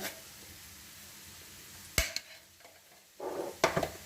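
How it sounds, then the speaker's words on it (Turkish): Pepper paste and tomato paste are stirred in hot oil for Ankara tava with lamb shank. A soft sizzle runs throughout, broken by a few sharp scrapes and clinks of a utensil against the pan. "Hemen şöyle salçalarımızı birazcık kokusu çıkana kadar yağımızda söndürelim."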